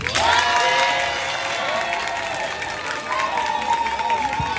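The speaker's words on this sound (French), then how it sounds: "Wow, un applaudissement." A crowd at a school presentation event claps and cheers after a student's speech, with loud mixed applause, shouting voices and a whistling squeal running through, while people talk over it.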